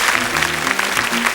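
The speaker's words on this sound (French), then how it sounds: "On va l'applaudir très fort, Jérémy." Studio audience clapping on a 1983 French children's TV show, a brief burst of lively applause with faint voices and tones beneath it.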